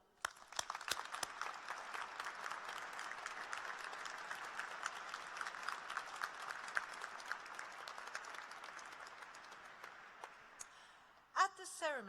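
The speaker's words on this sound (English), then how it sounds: "let's give them a warm round of applause" An audience applauds at a University of Lincoln graduation ceremony, with sharp claps swelling into a dense, sustained round that fades toward the end. A voice starts speaking in the final second.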